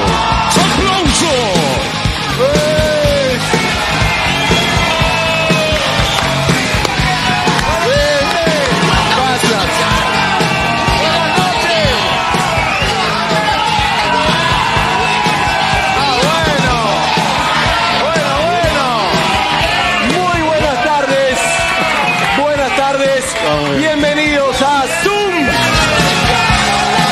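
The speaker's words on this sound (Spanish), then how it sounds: "¡Aplauso!" Loud studio audience at a Spanish-language TV show, a sustained wall of yells, whoops and clapping crowd noise, with music playing throughout for over twenty seconds.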